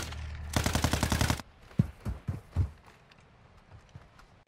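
An ice sniper rifle in a video game fires a rapid burst of sharp, loud shots that stop abruptly, followed by a few scattered single cracks and thuds that fade into quiet.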